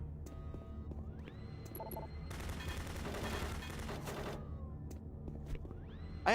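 Automated turret guns in Doom 3 firing in a burst of rapid, loud gunfire lasting a couple of seconds, framed by rising electronic tones and a steady mechanical hum.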